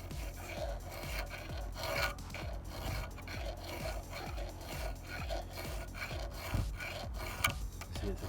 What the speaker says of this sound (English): So you just have to finish those ones off with a hand file.